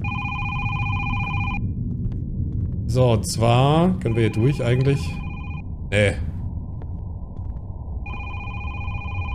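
A telephone rings in the horror video game Is Simon There?, with a steady electronic ring that starts and stops in bursts while someone talks over the middle stretch.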